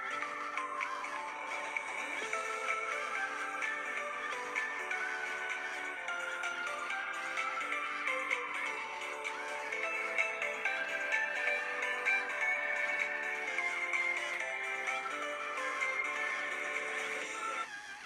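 Melodic electronic music plays steadily at a low, thin level from a laptop speaker, tinny playback, with no voices.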